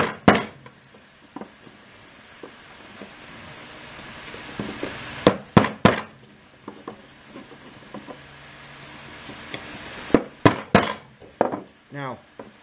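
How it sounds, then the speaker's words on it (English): Metal awl tapped down into a wooden cigar box guitar body, a handful of sharp, close taps and clinks scattered among quieter handling noise and faint knocks. "Now I'm going to take my awl and put it there and just drive it down"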